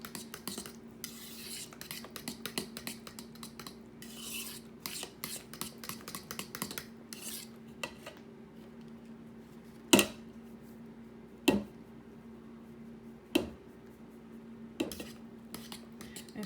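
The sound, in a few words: mixing banana bread dry ingredients in a bowl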